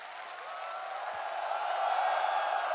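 A crowd cheers and applauds at a Counter-Strike esports semifinal between FaZe and ENCE, a dense, steady wash of noise that swells gradually louder over a few seconds.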